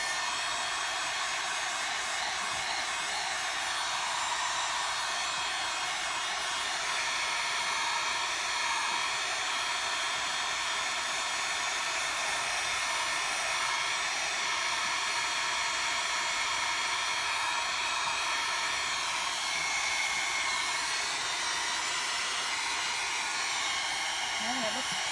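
A hair dryer blows a steady, unbroken hiss at close range while drying stencil paint on canvas, continuous for the whole stretch with no talk.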